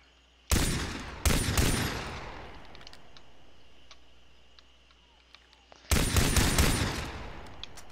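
Gunfire from the Far Cry 3 video game, fired from the hip: three loud rapid bursts of shots, two close together early and one later, each trailing off into a ringing decay over a quiet background hum.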